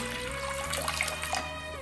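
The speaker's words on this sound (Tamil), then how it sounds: "நான் இப்போதைக்கு ஒரு கப் தண்ணி ஊற்றுறேன்" Water poured from a cup into a pan while making homemade china grass jelly in a kitchen, a steady continuous trickle and splash, near and alone without talk.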